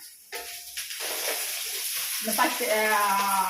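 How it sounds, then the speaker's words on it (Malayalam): Okra sizzling as it fries and is sautéed in a pan, a steady hiss that builds and grows louder after a quiet start, with faint stirring and no talk. "അതാണ് വെണ്ടയ്ക്ക വാട്ടുന്നത്"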